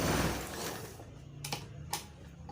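A Janome 672 sewing machine runs a straight stitch, its fast mechanical whirr heard up close and alone, followed by a couple of sharp clicks or knocks from the machine.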